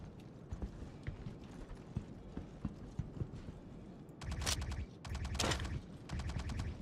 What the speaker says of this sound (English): Are these people shooting at me?